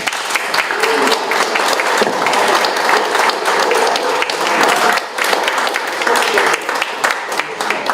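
An audience applauds after a lecture at a forum, with dense, sustained clapping that fills the room steadily for several seconds.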